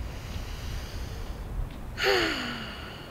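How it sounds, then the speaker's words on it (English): A person draws one deep audible breath, a rising airy gasp that starts partway in and trails off slowly, close to the ear with no talking. "you're going to take a deep breath"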